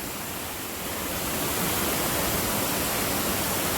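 Waterfall on a cliffside hiking trail, a steady broadband roar of falling water that swells slightly at the start and then holds constant, close and loud with no voices.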